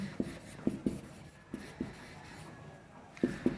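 Marker or chalk strokes on a board during an environmental studies lecture, a series of short, sharp scratching taps in irregular rhythm, close and fairly quiet.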